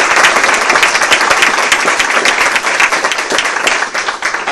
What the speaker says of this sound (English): I'd just like a round of applause for everybody up here.